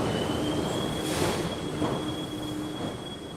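A subway train rumbles along with a thin, sustained wheel squeal ringing over the steady roar of the cars, loud and close throughout.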